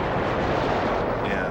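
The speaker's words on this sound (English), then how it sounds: "The second explosion demolishes what's left of Pepcon and everything else within a quarter-mile radius." Second blast at the Pepcon chemical plant, a massive explosion heard as a loud, dense roar that fills the whole moment and holds steady without letup, close and overwhelming.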